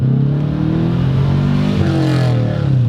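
Up close, a Subaru project car's engine revs loud and steady, holding a droning pitch that rises and dips slightly across a few seconds with no talking.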